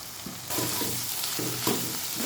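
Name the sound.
stirring salt and chili into cooking tomatoes in pan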